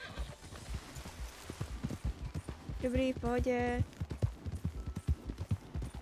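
Steady hoofbeats of a horse in a video game clip-clop under a conversation, with a brief tonal whinny-like sound in the middle.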